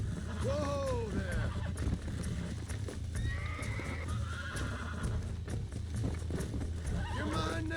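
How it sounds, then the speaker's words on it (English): A horse being tamed in the Red Dead Redemption game neighs and whinnies several times over a steady clip-clop of hooves, with someone talking throughout. "let's see if I can tame this horse too"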